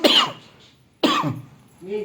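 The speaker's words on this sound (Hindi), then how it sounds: "खांसी हो रही है मुझे।" Two sharp, close coughs about a second apart, each trailing off, followed by a brief voiced sound.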